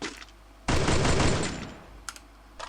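A rifle in Free Fire fires one sharp burst lasting under a second, loud and close, followed by a few faint clicks.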